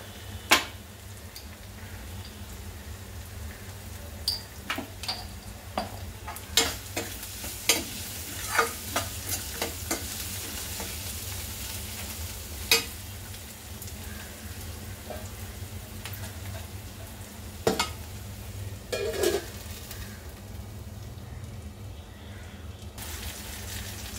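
Chopped onion with green chili and a pinch of salt fries in a pan as a soft, steady sizzle, broken by sharp scrapes and clicks of a spoon stirring against the metal.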